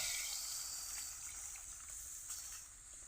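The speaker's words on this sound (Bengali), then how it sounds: "দেখুন এবারে আমি পরিমাণ মতন জলটা ঢেলে দেব।" Water poured into a pot of chicken curry with potatoes after the spiced meat has been browned in oil, a steady soft gushing and bubbling hiss lasting throughout at moderate level.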